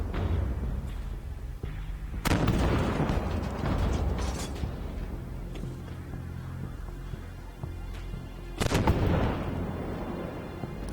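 Tank cannon fire and explosions in the game Armored Warfare, with two heavy booming shots several seconds apart over a constant mechanical rumble and clanking of tank tracks and gears.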